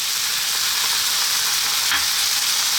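Oyster sauce hitting a hot wok of chicken broccoli stir fry, producing a loud, steady frying sizzle with a brief burst of extra spitting partway through, close up and without voices.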